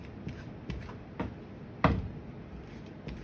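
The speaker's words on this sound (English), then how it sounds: "picking up the deck, guys, this is gonna be our second to last shuffle" Playing cards are picked up and shuffled by hand in a quiet room, giving a few soft riffling taps and flutters spaced unevenly across a few seconds, with one slightly louder snap near the middle.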